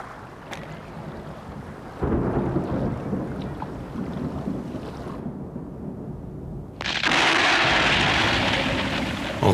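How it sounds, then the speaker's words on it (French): A thunderstorm over the Ethiopian highlands: deep, continuous rumbling with a roaring wash of wind and rain that swells sharply around two seconds and again near seven seconds, loud and close throughout. "les orages se déchaînent sur les hauts plateaux d'Éthiopie"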